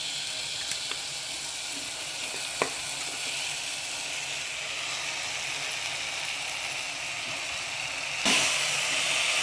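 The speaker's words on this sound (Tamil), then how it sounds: "தக்காளி நல்லா வதங்கிட்டு இப்போ நம்ம வாஷ் பண்ணி வச்ச காடையை வந்து அதில் சேர்த்துக்கலாம்" Quail meat going into sautéed tomatoes in a hot pan, a steady close sizzle and hiss with a couple of small clicks, then a sudden louder burst of frying near the end.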